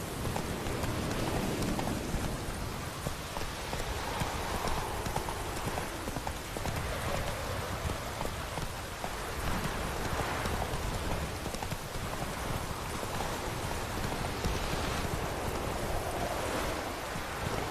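Roach the horse gallops in The Witcher 3, steady rhythmic hoofbeats running continuously under a dense wash of rain and wind, loud and unbroken throughout.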